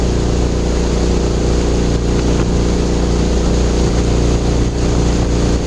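Mokai motorized kayak motoring from the Marysville boat launch into the sloughs, a loud, steady engine drone with water and wind rush, continuous and close, with no talk.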